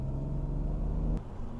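BMW E46 being driven, a low steady engine and road rumble from inside the car, fairly quiet and even with a slight shift near the end.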